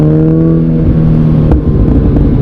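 Toyota Supra engine running on a bad road through New England evergreens in fall, a steady loud drone with strong low harmonics that holds close throughout, rising slightly in pitch like light revving, with no talk.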